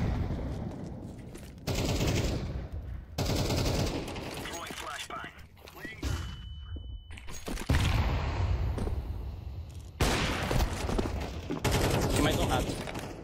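Rapid gunfire in a Counter-Strike 2 match on the Mirage map, with bursts of automatic fire and single shots crackling in repeated volleys, broken by brief quieter gaps, with a voice speaking at times.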